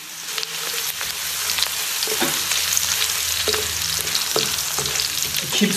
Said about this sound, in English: Keep stir frying for another 5 or 10 minutes.